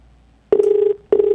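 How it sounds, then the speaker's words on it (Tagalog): A telephone rings on a live broadcast, two short electronic ring bursts separated by a brief pause, clear and close with no speech over them. "Ito yung telepono mong nag-ring."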